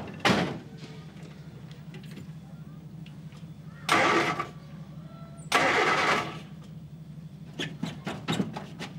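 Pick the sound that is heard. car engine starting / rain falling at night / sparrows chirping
car engine starting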